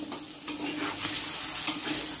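Water being poured into a pan while cooking kwetiau, a steady splashing rush with a hissing, sizzling edge as it hits the hot pan, continuous and fairly close.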